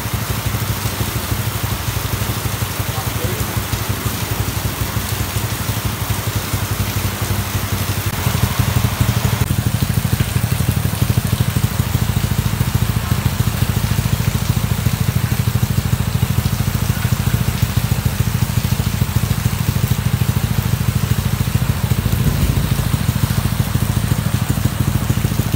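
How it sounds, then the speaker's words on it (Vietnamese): Rain falling outdoors at a work site, a steady broadband hiss that grows louder partway through and continues alone with no talk, alongside a low rumbling hum. "Đang làm mà trời mưa anh em ơi"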